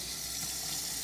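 Cold tap water runs steadily into a sink for cooling hard-boiled eggs, a constant close hiss and splash with no talk.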